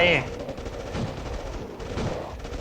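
Turret gunfire in State of Survival, a steady low rattle of repeated shots running under a busy game soundtrack, moderately loud throughout.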